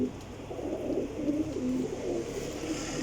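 Flying pigeons coo in low, repeated calls, near and fairly steady, with a light background hiss and no talking.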